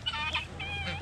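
A young chicken gives a close, short run of high-pitched clucks and peeps against a faint background hum.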